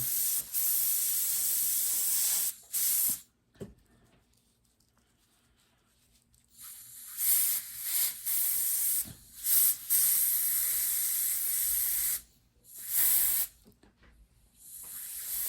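An airbrush sprays paint onto a bath bomb in bursts, a steady sharp hiss that starts and stops as the trigger is pressed, with several short quiet gaps and longer continuous passes, close and clear.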